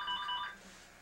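A telephone rings with a brief electronic warble that fades out after about half a second, with no one speaking over it.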